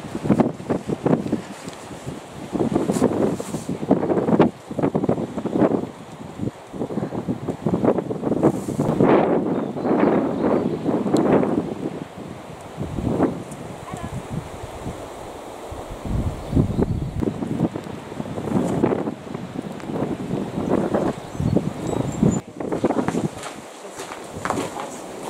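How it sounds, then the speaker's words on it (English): Gusty wind roars through the forest beside Lake Waikaremoana in Te Urewera on a rainy walk, rising and falling in loud bursts with rustling and footstep-like scuffs close to the microphone. "still windy"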